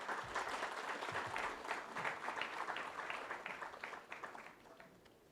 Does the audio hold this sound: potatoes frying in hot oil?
no